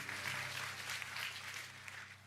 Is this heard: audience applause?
yes